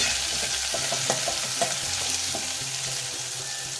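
Garlic and chopped tomato fry in a pan with a continuous sizzle and occasional utensil scrapes as they are stirred, close and fairly loud with no voices.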